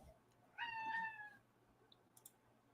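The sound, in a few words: cat meowing near the monitor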